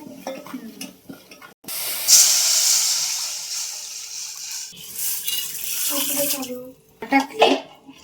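Water pours and splashes into a cooking pot of spiced masala with chilli, turmeric and salt, a loud rushing hiss that starts after a brief pause and runs in surges, with a little background voice.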